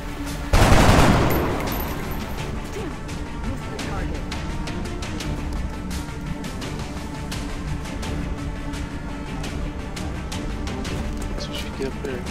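Gunfire in XCOM: Enemy Unknown: a loud opening shot or blast that fades into a long, dense stretch of rapid automatic fire. A voice talks over the shooting.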